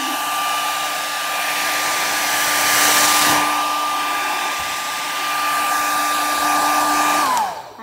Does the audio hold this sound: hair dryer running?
yes